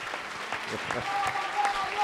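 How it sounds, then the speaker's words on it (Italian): Festival crowd at a political rally applauding, a moderate patter of clapping from a gathered audience with a few scattered voices, heard at some distance and fairly soft. "Applauso a Gaia che parteciperà ai tre giorni."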